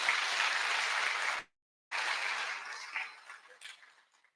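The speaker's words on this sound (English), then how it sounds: "A big clap for the governor." An audience claps for the governor at the launch of a Pan African Institute at Lukenya. Dense, steady applause fills the space, cuts out briefly to silence, then returns and gradually thins out.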